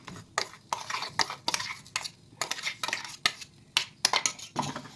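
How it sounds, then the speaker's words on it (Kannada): Cooked, mashed moong dal being mixed by hand or spoon into a chekuli dough in a bowl, with a run of close, uneven scraping and clinking strokes against the vessel. "ಹಾಕ್ಕೊಂಡು ಚೆನ್ನಾಗಿ ಕಲಿಸ್ಕೊಳ್ಬೇಕು"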